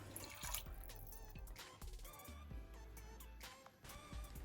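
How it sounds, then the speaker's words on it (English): Water goes into a pot of Jollof rice on the stove with faint trickling and dripping, a few soft splashes and clinks, quiet and close, without any talk. "So you want to add your water and then you want to taste for salt."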